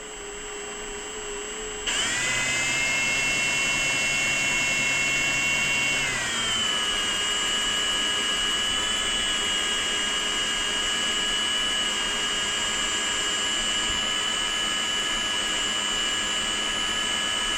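Drill-powered spooler reeling fishing braid onto a spool under hand tension: a steady electric motor whine starts abruptly after a short quiet moment, holds constant, then drops slightly in pitch and continues evenly, close and alone.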